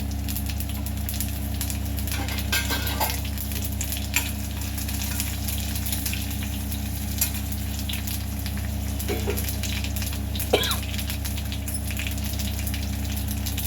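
Mustard seeds, cumin and urad dal sizzle in hot tempering oil with chillies and garlic for vakkaya pappu, a steady close hiss broken by a few sharp pops and crackles.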